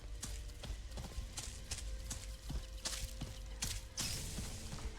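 Horse hooves clip-clop in the PC role-playing game Sacred 2 Gold, a quick steady rhythm of close hoof strikes over ground with a brief louder thump near the end.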